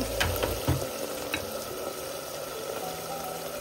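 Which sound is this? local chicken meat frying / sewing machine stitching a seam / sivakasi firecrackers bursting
local chicken meat frying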